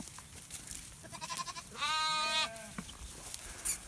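A sheep or lamb on a farm gives one clear, wavering bleat partway through, fairly quiet against a soft outdoor background with a few faint shorter calls around it.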